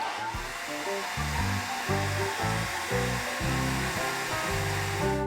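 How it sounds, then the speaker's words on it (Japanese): A hair dryer blows close and steady over a watercolor pencil drawing of the sea, a constant airy rush with a low motor hum that wavers and pulses throughout, and no voices. "でこの状態になったら一旦ドライヤーで乾かします。"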